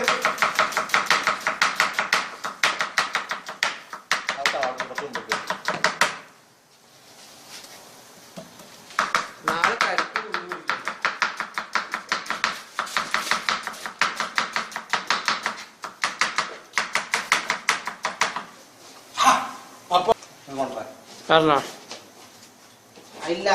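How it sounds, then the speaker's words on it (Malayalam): A knife chops onion in rapid bursts of blade taps on a board while the cutter is blindfolded, with short pauses between runs and people talking over much of it. "കണ്ണെട്ടിയാണ്ട് ഉള്ളി വെട്ടലായിരുന്നു."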